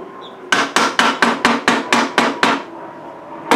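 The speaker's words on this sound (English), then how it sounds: "when I take that wedge, I take my old 2x4 push stick, and give it a tap" An old 2x4 push stick raps a wooden wedge on a DIY hummingbird whirligig, nine sharp, evenly spaced close knocks followed by a pause and one final tap.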